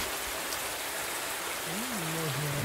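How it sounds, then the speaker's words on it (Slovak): Rain falls steadily in a forest as a dense, even hiss of drops, with a faint voice rising briefly under the downpour. "A rovno začalo pršať."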